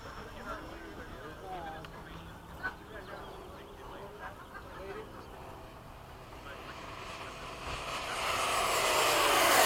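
An F/A-18 jet passes over a runway during an air show, its engine roar building steadily from a distant rumble to a loud, broadband rush near the end, with voices talking over the start.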